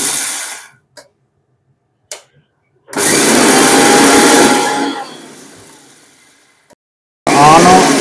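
An Indian mixer grinder turning spices to powder runs in loud whirring bursts, switched on for about two seconds, dying away, then starting again at the end, with brief quiet gaps and short clicks between runs.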